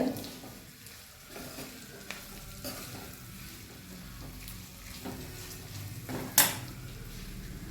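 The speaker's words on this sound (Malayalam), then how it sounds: "ഏഴ് ഗ്രാമ്പു അത് പൊടിച്ചത് ഇതിലേക്ക് നമുക്ക് ഇട്ട് കൊടുക്കാം ഇനി നമുക്കതൊന്ന് ഇളക്കി കൊടുക്കാവുന്നതാണ്" Ground cloves being stirred into hog plum pickle in a pan, a continuous sizzle under repeated scraping strokes of a spoon, close and moderately loud, with one sharper metallic clink near the end.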